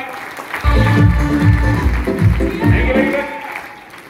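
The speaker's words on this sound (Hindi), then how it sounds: "भैया के लिए जोरदार ताली बजा दीजिए एक बार" An audience applauds at a seminar gathering, crowd clapping mixed with someone speaking loudly over it in rhythmic bursts, the applause tapering off at the end.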